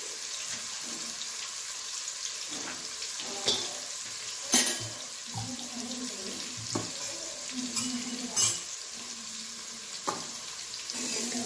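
Mustard seeds, cumin and asafoetida sizzling in hot oil while cooking a raw jackfruit vegetable dish, a steady close frying hiss broken by sharp crackles and pops, with light stirring clatter.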